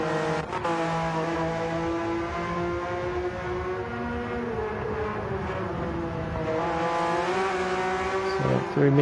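GT1 race car engine at the Nürburgring screaming through a corner, a loud sustained harmonic drone that shifts pitch as the car changes gear, joined by other engines, with talk over it.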